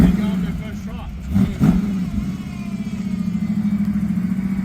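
An engine with a badly running carburetor revs roughly and unevenly, surging twice before settling into a loud, lumpy, pulsing idle close by, with someone talking over it.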